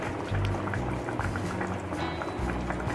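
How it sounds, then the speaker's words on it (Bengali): Tomato chicken curry with tomato puree, pepper and garam masala boiling in a pot, a close continuous bubbling and gurgling at steady loudness. "এবার এটা 2 মিনিট ফোটাবো।"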